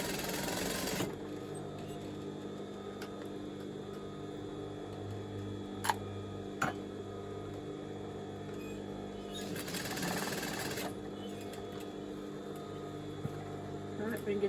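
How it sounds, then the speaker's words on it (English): An overlocker runs steadily while stitching elastic onto trousers made from a maxi dress, a faint continuous whirring hum with a few soft clicks as the fabric is adjusted. "Pulling that so that the elastic is just underneath the overlocking, stitching that in place."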